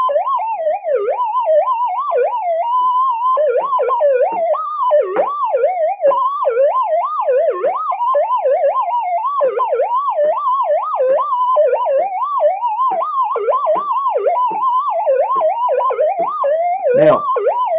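A Minelab GPX-6000 metal detector in a noisy workshop gives a loud, continuous warbling electronic whine that wobbles rapidly up and down in pitch like a siren, unbroken throughout and ending with a sharp crackle.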